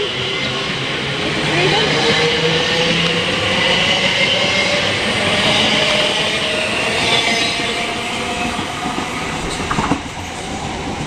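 A Class 345 electric train passing through West Ealing station on the Great Western main line, a loud sustained rumble of wheels on rails with faint squealing and a clatter near the end, close by and without speech.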